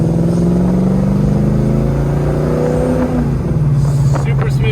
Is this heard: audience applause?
no